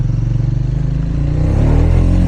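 A motorcycle with traction control switched off accelerates hard, its loud engine climbing in pitch and intensity from a pulsing idle-like throb into a steady, building roar close to the listener, with no talking.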